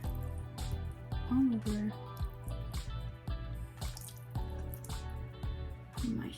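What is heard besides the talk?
pouring tie dye liquid onto shorts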